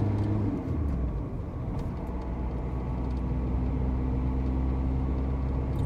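A car accelerating hard along a ring road during a first overtaking attempt, its engine a steady, close, loud drone that holds for several seconds with no voices.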